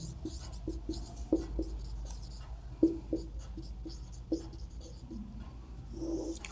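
A maths formula being written out during a class 12 lesson: quiet, scratchy writing strokes in short irregular bursts over low background hum, with no talking.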